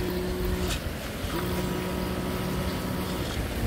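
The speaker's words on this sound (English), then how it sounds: "we'll just test our ballast system. We should be able to hear it kick on." A small electric ballast pump in a model Type VII submarine whirs steadily at close range, with a brief pause before it kicks back on against a noisy background.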